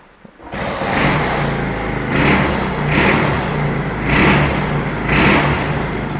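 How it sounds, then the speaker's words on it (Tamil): A restored vintage vehicle's engine runs steadily with a rumbling exhaust, swelling in regular revs roughly once a second; loud and close, no voices. "இன்ஜினோட எக்ஸாஸ்ட் நோட் கேளுங்க."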